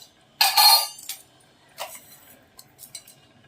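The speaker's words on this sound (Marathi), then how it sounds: "आपण थोडीशी साखर घालूया" Sugar being spooned into methi matar malai, a creamy fenugreek and green pea curry, giving a few brief metallic spoon clinks against the pan, one louder scrape early and softer taps after, with no talk.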